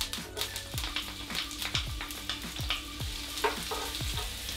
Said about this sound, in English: add our cooking oil. And then next to it, we have to add in our onions.